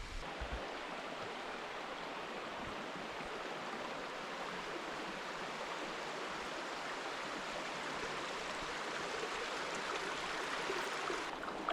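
Steady broadband rush of river water flowing by a riverside spot, continuous and fairly close with an even level throughout, no voices over it.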